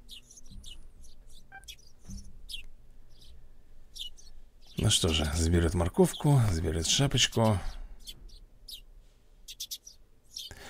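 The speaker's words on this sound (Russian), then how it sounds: "Птички чирикают, снежок тает" Springtime birds chirp in the Snowman Story video game, scattered short tweets repeating through the scene, joined midway by a louder swell of game music or sound while someone speaks over it.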